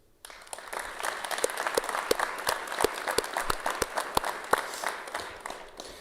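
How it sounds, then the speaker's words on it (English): Graduates and guests at a fire academy graduation ceremony applaud the support team, clapping starting abruptly and building into a lively, sustained crowd applause with loud distinct claps near the front. "Now 7-4, an applause for our support team."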